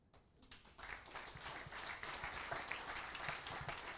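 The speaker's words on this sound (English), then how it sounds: "I think they need a round of applause." An audience claps together at a talk about conservation work, a dense, sustained round of applause that builds and holds steady for several seconds.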